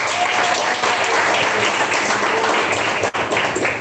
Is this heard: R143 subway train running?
no